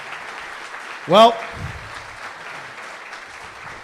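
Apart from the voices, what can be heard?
audience round of applause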